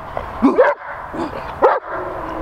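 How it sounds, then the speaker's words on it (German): Two sharp, close barks from a protection-sport dog trained to bark on cue, separated by a short pause, loud against a quiet background hum. "ihr seht einen deutlichen Unterschied in der Stimmlage des Hundes"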